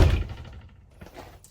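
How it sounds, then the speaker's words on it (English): A door on a Winnebago Solis 59P camper van swings shut with a single dull thunk at the start, followed by faint rustling and a small knock near the end. "I'll shut this door so it's not as much glare."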